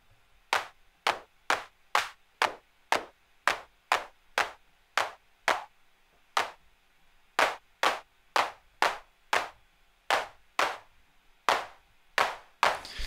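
A synthesized 808-style clap built in Bitwig Grid repeats in a steady pattern, each hit a sharp noisy burst with a quick decay, loud and isolated, with brief irregular pauses in the sequence.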